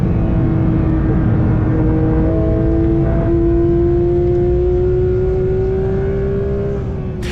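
A rebuilt Porsche GT3 RS, once crashed, drives the Nurburgring with its engine loud and close from inside, the pitch climbing steadily under acceleration before dropping sharply near the end.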